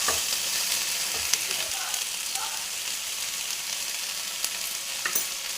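Okra (ladyfinger) slices fry in a pan with a constant close sizzle, while a spatula stirs them with light scrapes and a few sharp taps.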